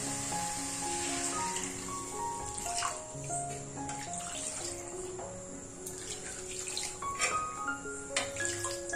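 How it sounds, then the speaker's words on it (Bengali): Water poured into a pot of egg curry, a steady splashing pour that carries on throughout at moderate loudness, with no talking. "এবার দিয়ে দেবো এতে জল"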